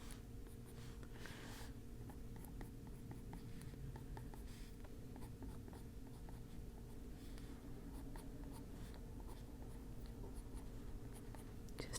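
A colored pencil scratches steadily across paper while feather fluff is shaded in, a soft continuous close-up rasp with small strokes and pauses throughout.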